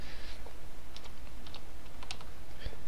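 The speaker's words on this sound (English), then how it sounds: "I'm going to type in" Typing on a computer keyboard while entering text on a blog page, with soft, irregular key clicks in short clusters, close and alone without any talk.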